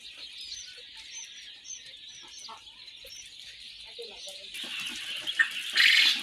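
Twenty-five-day-old quail chicks at a quail farm keep up a dense, continuous high chirping, a steady flock chatter at moderate distance under someone talking.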